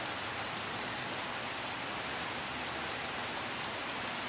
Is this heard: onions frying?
no